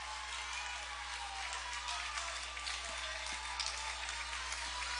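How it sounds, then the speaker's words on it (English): Crowd noise from a college football game between Bowdoin and Williams, a sustained wash of cheering and applause in the stadium with a few sharp claps and whoops standing out, fairly distant and even throughout. "The crowd is on its feet."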